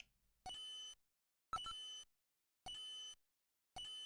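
Electronic beeping of a ticking bomb timer in the video game Snatcher: four evenly spaced, sustained tonal bleeps, each lasting about half a second with silence between them, clear and moderately close.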